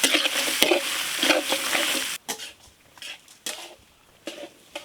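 Spices frying in oil for a village-style mutton saaru: a loud crackling sizzle with sharp stirring scrapes that cuts to quieter, intermittent spatters and clinks.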